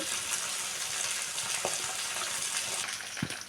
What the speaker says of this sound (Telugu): ఇప్పుడైతే నేనైతే కరివేపాకు కూడా వేసుకుంటున్నానండి.